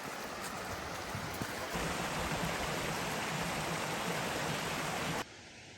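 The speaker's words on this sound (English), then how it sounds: "Ain't nothing better than hiking along a creek." Creek water rushes along a hiking trail on the West Rim Trail, a dense, steady hiss of flowing water heard close by and alone until it drops off sharply near the end.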